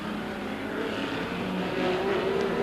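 Race cars, a Ford among them, roar away together at the start of a 1984 IMSA Miami Grand Prix, a dense, steady engine drone with rising tones as the pack accelerates.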